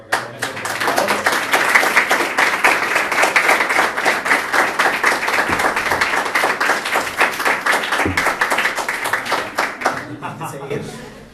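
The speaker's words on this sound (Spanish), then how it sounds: "Sí, otro aplauso." Sustained applause from a crowd, dense rapid clapping that fills the whole stretch and tapers slightly near the end, with a few faint voices mixed in.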